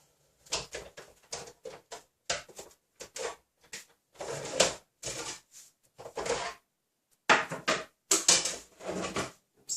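Bursts of clattering, knocking and sliding of hard parts as die-cutting machine platforms are changed, irregular and close, with short pauses between clusters of handling noise.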